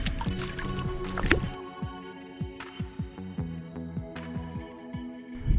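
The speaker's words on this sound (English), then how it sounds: "I'm gonna have to walk in the water here." Feet slosh and splash through a shallow canyon stream in a rhythmic series of wading steps, each a short watery surge, close and fairly clear against quiet surroundings.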